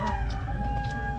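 A purebred Maclean Hatch gamecock crows in a short burst with a few clucks, loud and close, with no speech heard over it.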